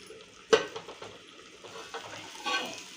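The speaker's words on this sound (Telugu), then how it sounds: "ఇప్పుడు మంచిగా కలిసేలాగా కలుపుకోవాలి." A spoon stirs crispy potato fry in a pan, with a sharp scrape at the start and a second stroke near the end over a soft, steady sizzle, with no one speaking.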